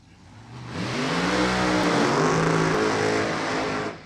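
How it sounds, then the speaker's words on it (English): A drag racing car at an NHRA divisional race doing a loud burnout: the engine roars up after half a second into a sustained, harsh, revving blast for about three seconds, then cuts off abruptly. "after this very loud burnout"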